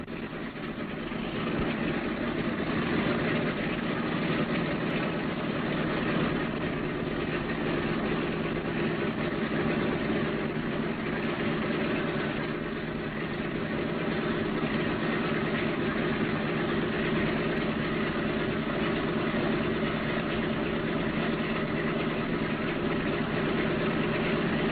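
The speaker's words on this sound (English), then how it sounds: "Throttle your engines all the way back and we'll get ready to taxi." B-17 bomber engines idling on the ground before taxi, a continuous heavy rumbling drone that stays loud and steady without a break.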